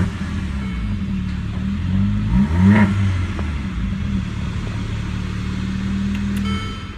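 2015 Mercedes CLA45 AMG engine starting with a sharp burst of revs that peaks, then settles into a steady, loud idle rumble, heard close up with no talking.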